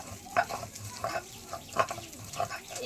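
Cumin being ground by hand on a stone grinding slab (shil), giving rhythmic rubbing and scraping strokes about every half second, close and moderately soft, with no talk.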